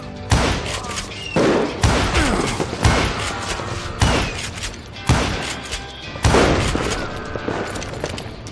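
Bursts of gunfire from the Western shooter video game Call of Juarez Gunslinger, a series of about eight loud sharp volleys with thumping impacts spaced roughly a second apart, set against game ambience.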